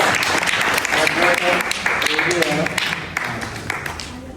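An audience at a church Sunday school send-off party for a deacon claps steadily in a lively burst of applause that tapers off near the end, with voices talking over it.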